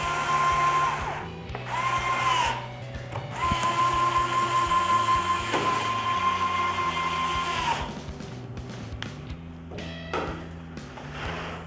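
A power screwdriver tightens a screw while assembling a clean room panel, whining in close bursts for several seconds before stopping, followed by softer clicks and handling noises; no one speaks.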